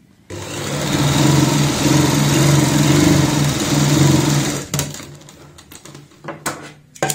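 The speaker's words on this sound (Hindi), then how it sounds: "यहाँ पे ऐसे सिलाई लगाएंगे सीधी।" A sewing machine runs a straight seam through dress fabric with a close, loud, steady whirring hum for about four seconds, then stops, leaving a few scattered clicks and handling noises.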